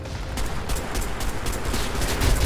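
Pistol shots from the shooter video game Crysis 2 ring out as a rapid string of sharp reports over a dense, continuous layer of game combat noise, with no talking.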